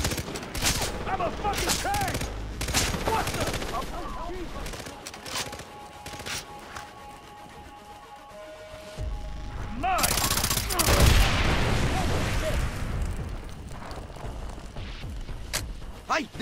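Bursts of gunfire from a Far Cry 3 co-op firefight crackle across the scene, with rapid volleys and a heavier blast, while players shout and talk over the shooting.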